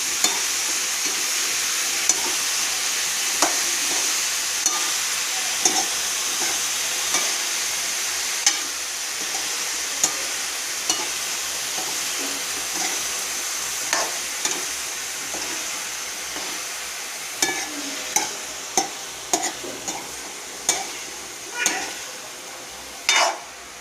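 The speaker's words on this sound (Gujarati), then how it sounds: "સરસ ચડી જાય પછી એને હલાવી દેવાનું છે" A spoon stirring bottle gourd sabzi in a pan over a gentle sizzle, with scraping and clinking strokes recurring at irregular intervals that grow more frequent and louder toward the end.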